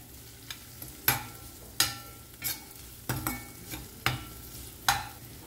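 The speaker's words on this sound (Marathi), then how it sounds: "सो आतां घालता हांवें स्प्रींग अनियन जे व्हायट अनियन आहा पळय ते घालता एक व्हडलो चमचो आनी जस्ट आमकां हाय फ्लेमीर एक 15 सेकंड न्ही हाका बरें फ्राय करून घेवया" Spring onion and white onion fry on a high flame while a spoon stirs them, with about eight clear scraping strokes over a soft, steady sizzle at close range and no voices.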